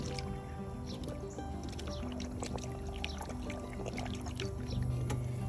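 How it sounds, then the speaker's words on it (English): Air is pushed into a jug of elderflower cordial with honey and water, giving a steady bubbling, gurgling liquid sound with small drips and squishes, close up and continuous. "I am just gonna push some air into this jug to try to mix up the honey and everything that's in there, the water"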